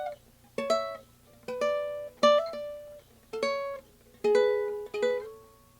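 A ukulele played fingerstyle gives six plucked strums, each ringing bright and close, with audible slides bending the pitch between chords, spaced in an even rhythm with no voices.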